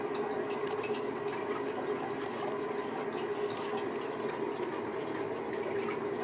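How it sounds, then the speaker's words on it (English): A hotel bathroom toilet cistern runs nonstop, giving a steady, faint hiss and trickle of water with a faint hum. The sound stays unchanged from start to finish, with no voices. "this toilet will not stop running"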